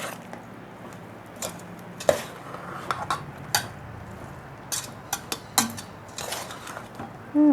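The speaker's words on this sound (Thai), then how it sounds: "คนให้เข้ากัน" Utensils stir and toss a Thai glass noodle salad in a bowl, giving irregular sharp clinks and scrapes of metal against the dish, close and fairly quiet, with no talking.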